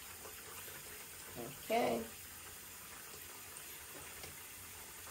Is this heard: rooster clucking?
no